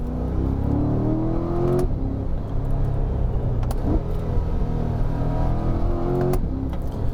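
A 2022 C8 Corvette Z51 accelerates hard on a rough road, its engine rising in pitch through the gears with sharp shift breaks and a deep rumble heard from the cabin.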